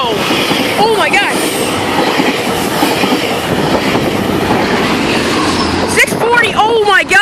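A GO express train runs through Danforth station without stopping, a loud, continuous rumble of passing rail cars with clickety-clack over the track joints, close by, while excited voices shout over it at the start and end.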